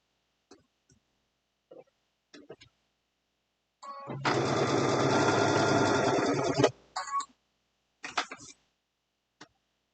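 A sewing machine runs one sustained burst of close stitching, sewing a locking stitch on fabric for an Easter basket. Short clicks and handling noises come before and after it.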